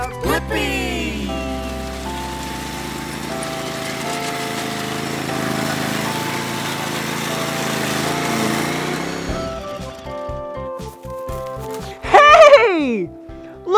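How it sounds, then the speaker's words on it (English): A lawn mower engine runs with a steady drone for about nine seconds and then cuts out. Music and voices play over it, and a lively voice rises near the end. "Yeah, it's a lawnmower."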